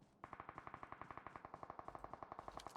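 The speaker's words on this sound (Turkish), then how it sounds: "Silah sesleri var." Rapid automatic gunfire from an M16A4 in PUBG Mobile, a fast steady burst of sharp shots continuing for several seconds, fairly loud.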